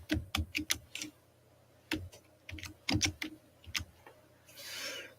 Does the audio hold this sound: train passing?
no